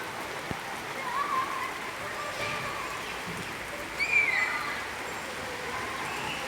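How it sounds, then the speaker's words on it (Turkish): Steady rain falls with a constant hissing patter, fairly soft and even, with faint bird chirps and a distant voice now and then. "Çok güzel yağmur yağıyor, bereket yağıyor maşallah."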